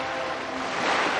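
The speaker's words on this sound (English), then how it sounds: "listening to the sound of the waves" Ocean surf washes steadily in a Dark Hunter visual novel scene set in Okinawa, a continuous broad hiss of breaking waves with a slight swell toward the end and no voices.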